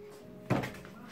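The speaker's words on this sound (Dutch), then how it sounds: "Zo, deurtje open." A small cupboard door, shown in a Dutch household, is opened once with a single soft knock-like thump, close and brief against quiet room tone.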